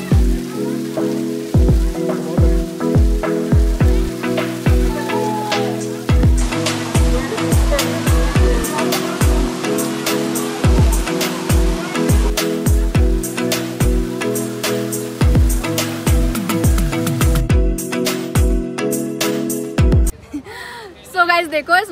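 Water pours and splashes continuously at Amboli waterfall in Maharashtra, with sharp droplet impacts close by and people's voices mixed in throughout.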